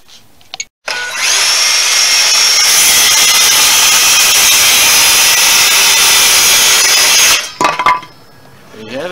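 A power sander grinds continuously across wood during an old house remodel, loud and close for several seconds before cutting off, with brief handling noises around it.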